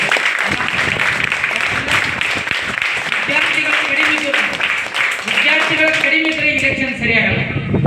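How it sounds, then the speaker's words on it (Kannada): Schoolchildren at a school parliament mock-election event clap loudly together, a dense, continuous burst of applause from a large group, with voices rising over it toward the end. "ನಾವೆಲ್ಲರೂ ಜೋರಾಗಿ ಚಲೋ ಚಪ್ಪಾಳೆ"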